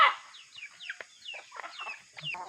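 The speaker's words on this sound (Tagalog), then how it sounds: "Yung manok namin, kunti na lang." Farmyard chickens being fed split coconut cluck and chatter in a quick string of short, bright calls, close by and fairly soft, with no talking.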